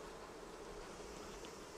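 Honey bees from an open Flow Hive make a faint, steady, continuous buzz with no break across the short stretch, and nobody speaks.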